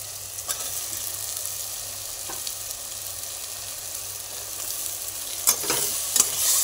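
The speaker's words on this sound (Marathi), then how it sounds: "आता व्हेजिटेबल टाकायचे।" Mixed vegetables for veg pulao frying and being stirred in a pan, a continuous close sizzle broken by scraping and clinking stirs toward the end, with no one talking.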